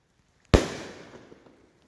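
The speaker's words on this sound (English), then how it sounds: "here are the Premium Willow shells by Great Grizzly." A single loud Great Grizzly Premium Willow firework shell burst in the rain, sharp and close, followed by a long crackling, fading tail.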